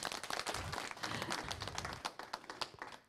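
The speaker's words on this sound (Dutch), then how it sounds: "Ik wil voor jou echt een heel hartelijk applaus hebben." Warm applause for Hague alderman Marnix Norder at a Raksha Bandhan gathering, a close, lively burst of many hands clapping in quick, uneven rhythm, faint overall.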